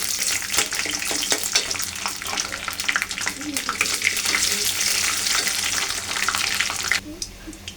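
Spices frying in hot oil for a potato and chicken curry, a loud continuous sizzle with stirring clatter that cuts off abruptly near the end.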